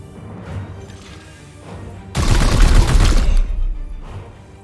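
Gunfire erupts in the Warhammer 40K Chaos Gate video game as a loud, dense burst of rapid shots lasting about a second and a half, then fades, following quieter game ambience.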